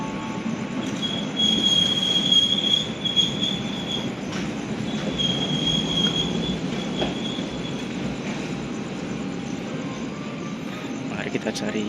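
Passenger train rolling along the rails, a steady rumble with intermittent high wheel squeal while people talk faintly in the carriage.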